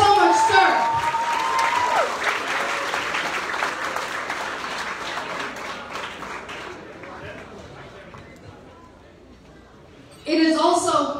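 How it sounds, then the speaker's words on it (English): An audience at an award program in New York gives a hearty round of applause for a commissioner, broad clapping that fades gradually before a voice cuts in at the end; a whistle-like tone rises early on. "Let us have a huge round of applause for our Commissioner, Luis Molina."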